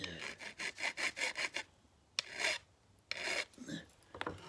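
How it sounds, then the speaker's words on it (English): Metal file scraping burrs off a workpiece in a quick series of about eight rhythmic rasping strokes, followed by a few slower, separated strokes, close and clear with no voices. "I need to clean this up with my file, get all the burrs off of it"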